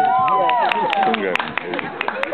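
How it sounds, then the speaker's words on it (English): Outdoor applause at a farmer's market after a hokey pokey dance: sparse, sharp hand claps from a small group, close by and mixed with a voice talking over them. "Give them a big round of applause"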